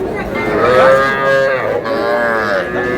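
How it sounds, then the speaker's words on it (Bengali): A bull calf at a cattle market in Raniganj moos in drawn-out, close, loud calls that rise and fall, with no one talking over them. "ষাঁড় বাচ্চা।"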